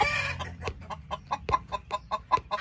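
A head hen clucks close by in a rapid series of short, evenly spaced clucks that follow an opening squawk, with no voices over them.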